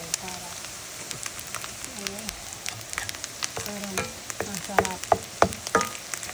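Rice frying in olive oil in a pan, a steady close sizzle with irregular crackles and pops that build toward the end, with a voice speaking briefly over it.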